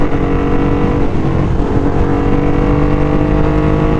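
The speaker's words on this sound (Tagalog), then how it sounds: "Sobrang Grabe na ng engine natin." A Ducati Hypermotard 821 motorcycle engine, recently serviced, runs loud and close with a deep, steady throb and slight rises in revs, alone without voices.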